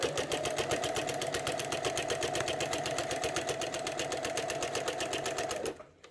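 A sewing machine with a walking foot quilting runs in a fast, steady mechanical chatter for several seconds at close range, then stops abruptly near the end.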